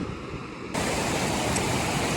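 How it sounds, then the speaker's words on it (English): Dinwoody Creek rushes along a mountain trail on the way to Gannett Peak, a steady broadband roar of flowing water that swells suddenly louder partway through and then holds, close and unbroken, with no talking. "just got to the Dinwoody Creek here and I gotta find a way to cross"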